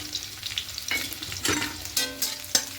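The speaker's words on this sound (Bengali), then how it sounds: "রসুন আর শুকনো লঙ্কাটাকে একটু হালকা করে ভেজে নেব" Crushed garlic and torn dried red chillies fry lightly in hot oil in a pan, giving a soft steady sizzle with a few brighter crackling bursts and faint stirring scrapes, no voices.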